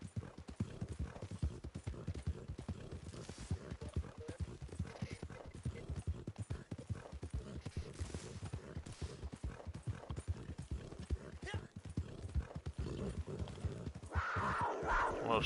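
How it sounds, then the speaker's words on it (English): Horse hooves trotting in Red Dead Redemption 2 Online, a rapid and steady clip-clop rhythm that continues throughout, with a neigh or whinny near the end and faint game ambience underneath. "Horse is gonna throw us off"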